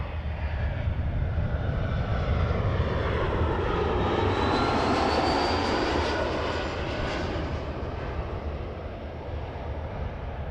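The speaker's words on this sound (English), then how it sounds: "time to see an Embraer" Embraer jet aircraft at Toronto Pearson Airport, a loud broadband engine roar that holds steady and swells slightly mid-clip as it passes near, with a rising whine on top and no talk.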